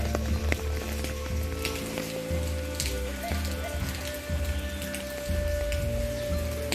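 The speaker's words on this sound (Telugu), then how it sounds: "ముప్పై అడుగులు ఎత్తు నుంచి ఈ వర్షం నీళ్లు నూతులోకి చాలా ఫాస్ట్గా వస్తాయి" Heavy rainwater pours and splashes steadily into a well from about thirty feet up, a dense, continuous rushing with a low hum underneath and no voices.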